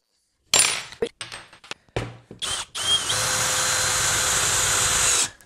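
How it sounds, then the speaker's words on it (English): A Skil 3080 cordless screwdriver whirs into foam, first in several short stuttering bursts, then in one steady, close, continuous motor run lasting about two seconds before it stops. "I'm going to drill it into some foam."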